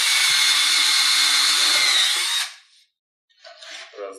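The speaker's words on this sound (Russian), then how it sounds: "Будем все одинаковым сверлом сверлить" A power drill whines steadily as it bores through furniture material using a drilling jig for a couple of seconds, then stops; a brief scraping sound follows.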